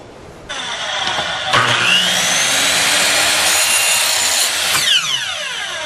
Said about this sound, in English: I'm just going to use my miter saw over there, cut these two areas there